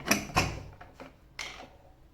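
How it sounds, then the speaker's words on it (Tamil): A few sharp metallic clanks, close and fairly loud, as a lid is set on a pressure cooker holding mutton for biryani, then a quieter clink. "இந்த மூடி வச்சுருவோம்."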